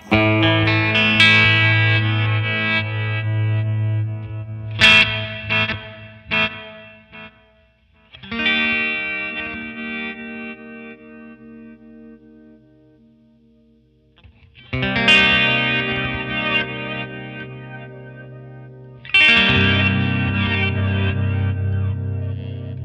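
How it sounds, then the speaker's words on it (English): Electric guitar chords ring out in separate bursts through a Flamma FS03 delay pedal, washed in a swirling, shimmering delay that trails off between strums; no talking. "there's like a swirly effect that I really like"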